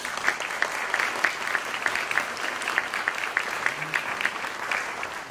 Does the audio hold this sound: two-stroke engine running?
no